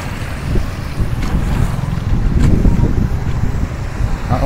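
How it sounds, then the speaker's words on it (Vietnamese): Heavy wind rushes over the microphone along Le Loi boulevard on a rainy afternoon with wet roads, a continuous loud low rumble with faint street noise beneath and no talking. "Gió mạnh luôn."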